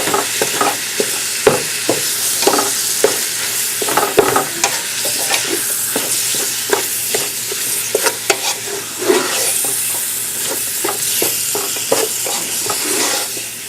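Ground beef frying in a pan, broken up with a spatula: a steady sizzle punctuated by repeated sharp scrapes and taps of the spatula against the pan, close and fairly loud.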